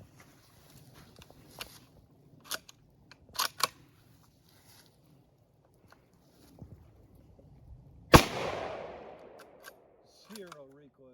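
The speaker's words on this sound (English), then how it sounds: "Shoot out of this nice Savage 308." A single loud, sharp rifle shot from a Savage .308 firing Federal 150 grain polymer-tip ammunition at an outdoor range rings out and decays, following scattered quiet clicks and handling noises; brief talk follows.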